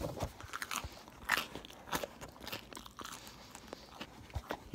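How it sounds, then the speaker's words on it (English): Crisp crunching bites and chewing of a pizza bagel up close, a series of sharp crackly snaps at an uneven pace, with no talking. "You hear that crunch at home"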